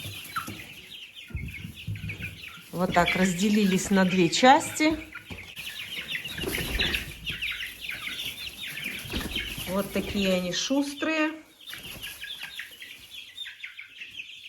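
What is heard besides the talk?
young chickens and roosters clucking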